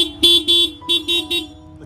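Horn of a new scooter, sounded in three quick pairs of short, loud, close honks with brief gaps between them.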